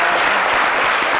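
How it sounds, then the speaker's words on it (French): Studio audience applauding on a French daytime TV talk show, a dense, steady wash of clapping filling the whole moment at close range with no break. "On va tous applaudir Caroline Da Silva, s'il vous plaît."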